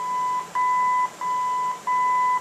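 Original AM radio in a 1967 Ford F100 gives three steady electronic beeps, each held about half a second with short gaps, clear and close with no other sound.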